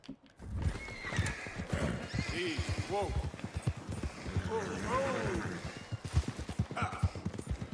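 A horse in Red Dead Redemption 2 whinnies loudly several times while its hooves clip-clop steadily on the ground close by.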